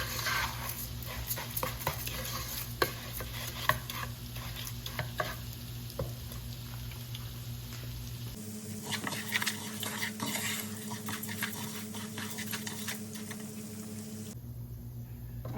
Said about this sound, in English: You have to let your rice fry all the way.